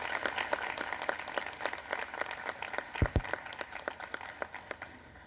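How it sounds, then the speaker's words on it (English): Sustained applause at a National Space Council meeting chaired by the vice president, an audience clapping steadily throughout at moderate distance with a brief low thump midway. "how about another round of applause for really a tireless public servant"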